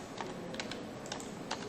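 Keys on a computer keyboard are typed at a steady pace as a filename is entered at a command prompt, with close, light clicks over a faint room hum.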